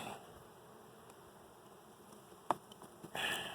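Steady, faint honeybee buzzing at a hive during an inspection fills the background, with a couple of brief clicks and a louder rustle near the end.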